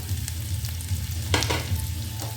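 Whole garam masala spices and chopped ginger fry in hot ghee in a kadai, a loud continuous sizzle with a few scraping stir strokes, including one stronger burst midway.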